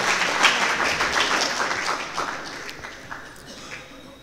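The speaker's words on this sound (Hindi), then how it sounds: "जोरदार तालियों के साथ स्वागत करें आदरणीय भाई साहब का।" Applause from a crowd at a weekly Hindi discussion gathering, loud at first and gradually fading over a few seconds.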